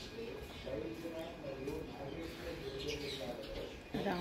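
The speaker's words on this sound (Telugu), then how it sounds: "చిట్టి పిట్టలు, కూర పిచ్చుకలు," Small birds, sparrows and parakeets, chirp and twitter faintly in the background while a person talks steadily over them outdoors.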